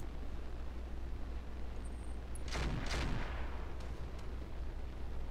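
Artillery barrage in the video game Roguetech (BattleTech): two heavy, booming blasts close together over a low ambient rumble, followed by a faint later thud, with no talk.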